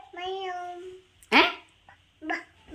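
A child mimics a cat, voicing a drawn-out, wavering meow that rises and falls, then gives way to a couple of short, louder vocal bursts close by.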